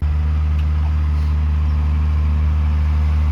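A heavy red tractor pulling a 6-metre HORSCH Pronto NT seed drill while sowing wheat runs at a steady idle, a constant low droning hum that stays loud and unchanging throughout.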